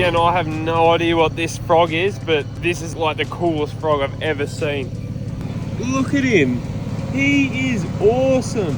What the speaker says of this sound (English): Sorry about the noise in my car